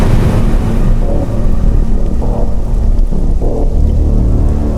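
Heavy rain pouring on a rainy night with low thunder rumbling underneath, a continuous loud wash with no voices.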